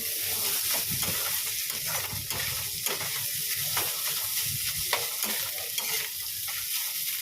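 Food fries in a kadai before neem leaves go in, with a steady sizzle and repeated scraping stirs of a spatula against the pan, close and moderately loud with no talk.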